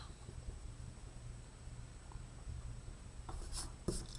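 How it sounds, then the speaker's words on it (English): A pencil eraser rubs out lines on paper during a one-point perspective letter drawing. The scrubbing is faint and close, a soft steady friction with a few sharper rubs near the end. "and now we erase."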